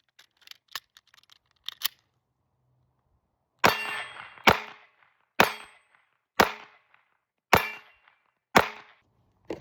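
Handgun shots fired one at a time at a steady pace, six sharp loud cracks about a second apart with short ringing tails, preceded by a few fainter clicks and handling noises.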